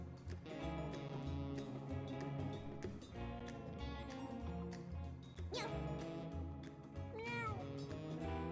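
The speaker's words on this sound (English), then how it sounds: "There are 5 angry cats around the edge of the arena" Angry cats in a video game arena meow and yowl over a steady game music bed, several distinct cries rising and falling, with a few louder wails toward the end.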